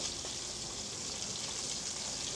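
Lamb browns in a hot pan with a steady, even sizzle, a continuous bright hiss at moderate volume with no voices over it.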